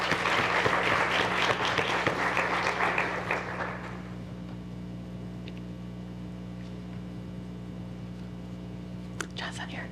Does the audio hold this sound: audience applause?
yes